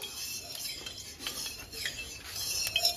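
A utensil stirs aloo paneer curry in a kadai of hot oil in a village kitchen, with faint scraping and soft clinks against the pan over a low sizzle, quiet and continuous.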